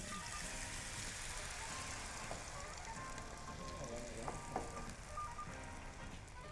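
Kimchi sizzles and fries steadily in a hot pan while being stirred, a continuous crackling hiss with a few faint scraping clicks from the utensil, heard alone without talk.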